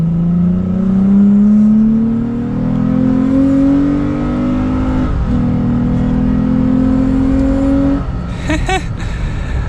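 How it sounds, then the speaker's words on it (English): A Toyota Tacoma pickup engine with an Injen cold air intake roars under hard acceleration, pitch climbing steadily through the gears with a brief shift dip, loud and close, then easing off at the end. "It definitely sounds good under acceleration."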